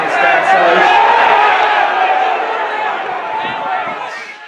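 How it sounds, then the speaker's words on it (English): A dense crowd at a hurling semi-final roars and shouts in a steady, loud wash of voices that swells early and eases slightly toward the end. "Semi-final tensions running high, so everything being reacted to in the crowd"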